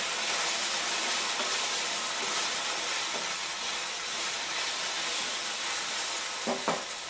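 Okra frying in a pan in a home kitchen as it is stirred, a continuous soft sizzle and hiss with a couple of faint scraping knocks near the end, no voices.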